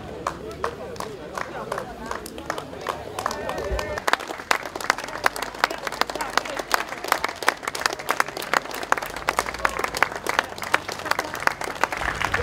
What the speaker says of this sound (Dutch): Geef ze een hartelijk applaus als ze zo meteen hier zijn.